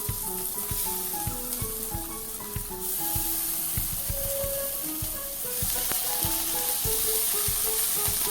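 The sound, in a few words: green chilies placed into hot oil with asafoetida, sizzling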